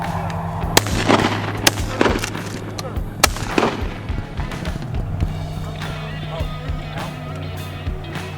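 Shotguns fire at ducks during a youth duck hunt outdoors, several sharp loud blasts spaced a second or so apart over steady background noise, with people talking in between.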